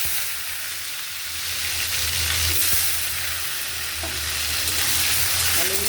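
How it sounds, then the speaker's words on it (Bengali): Potato pieces fry in hot oil with cumin seeds, giving a loud, continuous crackling sizzle with occasional scraping as they are turned in the pan. There is no talking. "আলুগুলো একটু ভাজা ভাজা করে নেবো বন্ধুরা"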